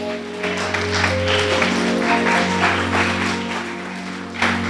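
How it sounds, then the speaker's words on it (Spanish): A church congregation claps together during a Spanish-language service, sustained and lively over a steady low hum and sustained organ-like tones, with the applause filling the room throughout. "Dele fuerte el aplauso al Señor."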